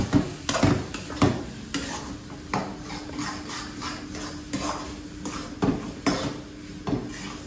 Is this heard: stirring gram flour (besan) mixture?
yes